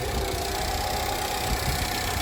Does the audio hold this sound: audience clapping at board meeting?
no